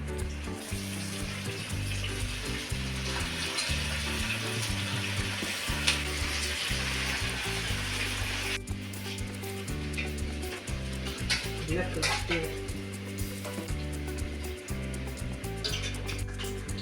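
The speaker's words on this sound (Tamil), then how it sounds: "இதே மாதிரி மீதம் உள்ளதையும் நம்ம பொறிச்சு எடுத்துக்கணும்" Pieces for a honey garlic dish deep frying in a kadai of oil, a steady close bubbling sizzle with a brief clatter partway through, continuing without talk.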